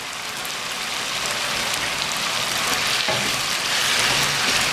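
Butter melts into chicken karahi in a hot pan, giving a loud, dense, continuous sizzle that crackles like steady rain, with no voices.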